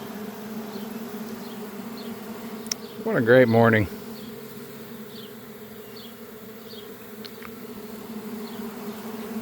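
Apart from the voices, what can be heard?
honeybee swarm buzzing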